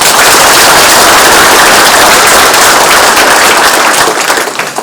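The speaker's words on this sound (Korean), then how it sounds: "박수 한번 쳐주세요" An indoor audience at a provincial governor's public talk bursts into loud, dense applause that fills the space and then begins to thin out near the end.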